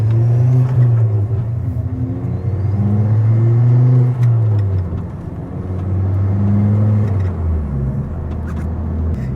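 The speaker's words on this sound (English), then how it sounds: "Hopefully you guys can pick up the turbo noises on camera as well" Ford Focus ST225 Mk2 with a turbo and loud exhaust, heard from inside while driving through midday traffic: a steady low engine drone rising and falling through gears, with turbo whir, continuous and close.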